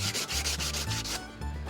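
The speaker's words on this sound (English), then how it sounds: "there's a lot more efficient way to shape that than to use a sandpaper, but I kind of like doing it by hand" A cheap Harbor Freight metal axe head being sanded by hand with sandpaper, steady rhythmic rasping strokes close up, about six back-and-forth passes, with no voices.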